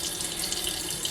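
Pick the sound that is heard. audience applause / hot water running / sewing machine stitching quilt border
hot water running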